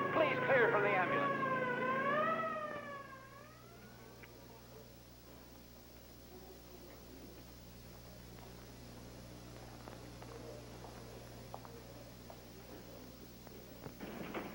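A wailing siren sweeps up and down loudly for a few seconds, then fades, leaving a low steady hum and faint scattered clicks.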